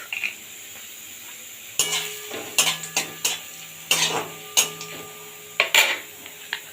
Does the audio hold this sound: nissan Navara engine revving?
no